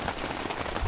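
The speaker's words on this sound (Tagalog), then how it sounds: "Wow, grabe yung ulan." Heavy rain pouring down at night during a strong storm, a dense steady patter of drops hitting surfaces close by, with a sudden louder thump at the very end.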